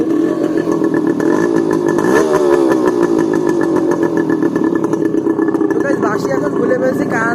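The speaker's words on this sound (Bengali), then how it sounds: "দেখতে পাচ্ছেন আমার পিছনে আমার বাইকটা হচ্ছে বাঁশি খুলে ফেলছি, এই কারণে অনেক লাউড হয়ে গেছে," A motorcycle with its muffler removed and no dB killer runs loud and close, a raw, harsh engine roar that rises in a rev partway through, while someone talks over it.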